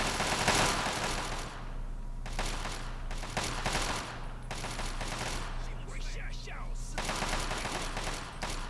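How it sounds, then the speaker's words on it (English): Enemy gunfire in Fallout 3 comes as bursts of rapid automatic shots separated by short pauses, loud and continuous over a steady low engine-like hum, with a voice reacting in between. "What the fuck are they shooting at?"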